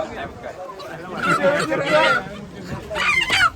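Chickens cluck and squawk in short bursts amid a busy crowd of talking voices at a live chicken auction, with the loudest calls near the end.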